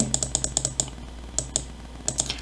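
Values are typed on a computer keyboard: a quick run of about eight crisp, close keystrokes, a short pause, then two more taps and a final pair.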